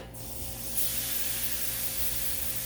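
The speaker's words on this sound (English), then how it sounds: "so I used a little extra oil, and that's burning off" Extra oil hisses and sizzles as it burns off on a hot Blackstone griddle, a steady close spray-like hiss that swells after a brief moment and holds, with a low hum beneath.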